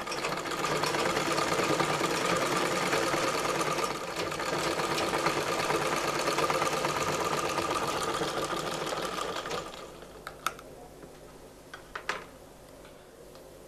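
A sewing machine stitches a petticoat with a fast, steady mechanical whirr for about ten seconds, then stops, leaving a few sharp clicks and handling knocks.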